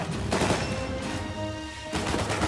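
Game combat in Uncharted 4 with a grenade launcher: heavy booming blasts, one near the start and another close to the end, with a quieter tonal lull between them.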